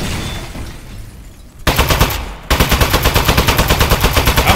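Gunfire from an appliance turret in the video game Aperture Desk Job: a short burst first, then a rapid, evenly spaced stream of loud automatic shots that carries on to the end.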